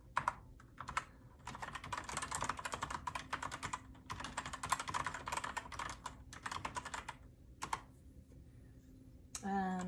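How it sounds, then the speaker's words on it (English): Typing on a KeyMaster mechanical keyboard with linear keys gives rapid, close clacking bursts separated by short pauses, with a brief different noise at the very end. "So I'll just start typing some sentences."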